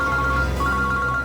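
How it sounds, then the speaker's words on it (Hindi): Mobile phone ringtone rings steadily and fairly loud for about a second, a sustained electronic tone with no voices over it, heard during a crime-drama scene. "ये मेरा ही फोन है सर"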